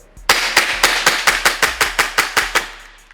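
A gel blaster pistol mag dump: about a dozen sharp, close shots in a fast, even rhythm, each a punchy crack, stopping abruptly after a few seconds.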